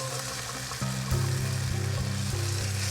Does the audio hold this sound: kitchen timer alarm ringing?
no